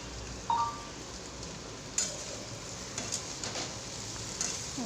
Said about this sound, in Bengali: হালকা করে ভেজে নেবো পেঁয়াজ আর কাঁচা লঙ্কাটা